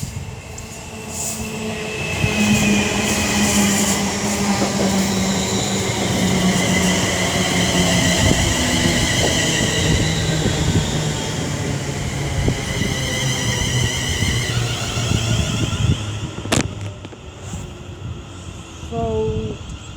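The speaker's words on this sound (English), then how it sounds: "the Northwestern Railway service to Crewe works by a pair of 350s" A pair of Class 350 electric multiple unit trains rumbles past close by at Lichfield Trent Valley, a steady loud roll of wheels with squeals and clatter, easing off near the end with a sharp clank.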